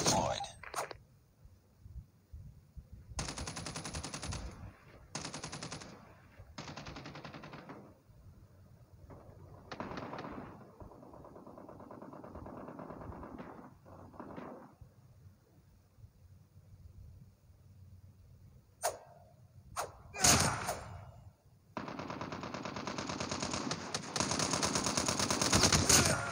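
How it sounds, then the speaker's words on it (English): Automated sentry gun fire in a team deathmatch shooter comes as bursts of rapid gunfire separated by quieter gaps, with a dense stretch of shooting near the end and game voice lines in between. "Enemy contact. Sentry gun deployed."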